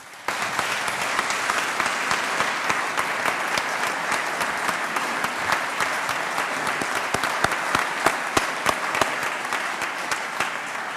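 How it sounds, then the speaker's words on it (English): A large audience at the Indiana State of the State address gives a sustained round of applause, a dense, loud wash of clapping that holds steady for the full length with no talking over it. "please give yourselves and our statewide partners a big round of applause on a job well done"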